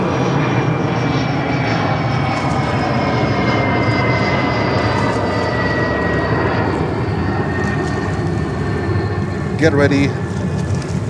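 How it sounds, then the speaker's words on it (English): A Boeing 787 Dreamliner of Iraqi Airways rolls for takeoff at JFK, its steady engine roar loud and continuous throughout, with a rising whine near the end and a person speaking briefly over it. "Iraqi Airways 787A Dreamliner taking off"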